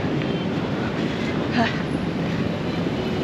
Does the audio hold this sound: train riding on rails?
yes